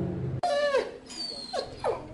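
Homeless dogs in an animal shelter in Martinez, several close, loud barks and yelps in quick succession, echoing in a hard-walled room.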